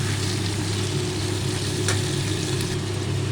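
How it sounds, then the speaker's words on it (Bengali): Loud, continuous sizzling of chopped onion frying in a pan with bottle gourd vegetables, with a steady low hum underneath and a brief stir near the middle. "পেঁয়াজ কুচি দিয়েও একটু ভাজা ভাজা করে নেবো"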